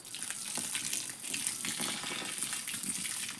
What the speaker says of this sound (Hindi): यहाँ पर ये पानी लगा रखा है मैंने अभी, पानी सींचने के लिए।